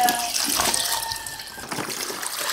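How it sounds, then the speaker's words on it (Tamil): Water gushes steadily into a koi pond, a continuous splashing rush at close range with no break through the clip. "ப்ரோ டேமில் வர மாதிரி வருது தண்ணி"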